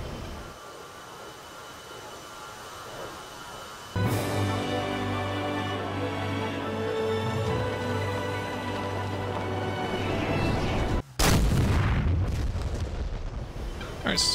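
A bomb strike on a single vehicle in a flight combat game: a low rumbling aircraft drone builds steadily, then a sudden heavy blast lands near the end, followed by a lingering roar.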